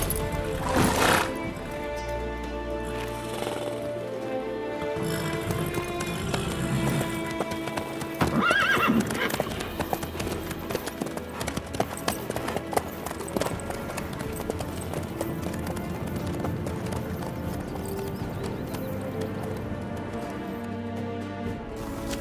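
A horse's hooves clip-clop in a steady walking rhythm in The Witcher 3, with occasional neighs and whinnies over a continuous musical score, loud and close throughout.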